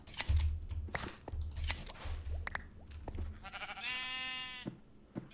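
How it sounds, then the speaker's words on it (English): Sheep bleat in a crafting video game, several short game bleats near the start, then a longer harmonic bleat, all close and clear with no talk over them. "Are any of these sheep normal sheep?"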